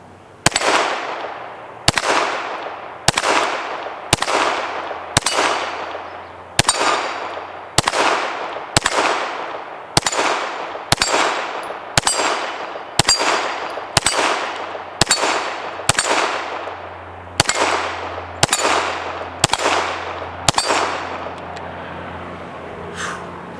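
A Canik TTI Combat pistol fires about twenty evenly spaced shots at a steel plate rack, each sharp crack followed by a ringing metallic clang, loud and close with brief pauses between.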